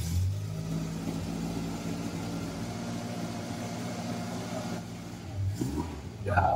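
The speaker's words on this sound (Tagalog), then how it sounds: "Cold start, guys." Mitsubishi Lancer Boxtype with racing cams idling after a cold start, a steady low engine rumble with slight rises in revs, heard close with people talking nearby.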